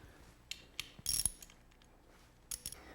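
Ratchet tightening a bolt on the front of a Lotus engine, a few sparse close clicks, then a short quick burst of ratcheting and another brief burst near the end, quiet between.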